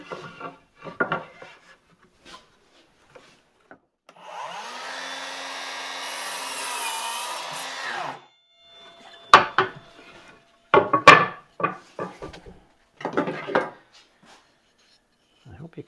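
A miter saw, or chop saw, makes a single cut through a piece of wood, producing a sustained whirring, rasping whine of several seconds. Sharp clacks and handling knocks follow, with faint shuffling before the cut.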